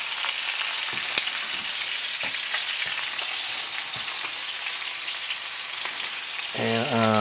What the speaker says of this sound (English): I'm gonna start preparing the seared potatoes.